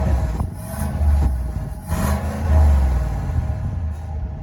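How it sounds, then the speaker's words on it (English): A 2020 Chevy Silverado Trail Boss pickup engine rumbles deeply and revs up in a few swelling pulses, loud and close, its low growl rising and settling, heard from behind the truck. "It sounds definitely different when you're behind the truck than being in front."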